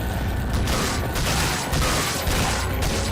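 Gunfire and clanking mechanisms in Resident Evil 4 HD, from a Salazar boss battle, form a dense, loud, continuous clatter of shots and metallic impacts with no gaps.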